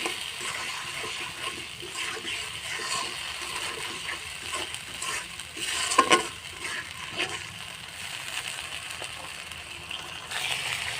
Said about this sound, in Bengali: একটু পানি দিয়ে মশলাটা কষিয়ে নেব।